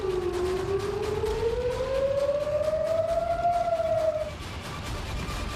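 An air raid siren sounds in Tel Aviv, a single loud wailing tone rising slowly in pitch over several seconds before cutting off, with a steady background rumble beneath it.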